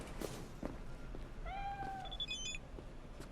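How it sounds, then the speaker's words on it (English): A cat in the video game Cyberpunk 2077 gives a single clear, drawn-out meow, then a short high chirp, heard close against a low steady game ambience. "That's an ugly ass cat."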